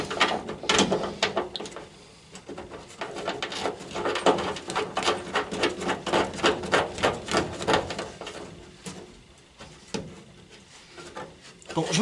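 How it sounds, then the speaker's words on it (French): A bolt is tightened while fixing a front seat belt mount on a Citroën Traction 11B, giving a run of quick, close ratcheting clicks in bursts with short pauses between them. "Je vais essayer d'y mettre le boulon et de le fixer avec le boulon."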